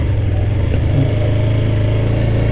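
Hyosung GT250R carbureted V-twin sport bike engine while riding, a loud, steady low-rpm drone with a slight throttle rise near the start, then holding an even pitch close by.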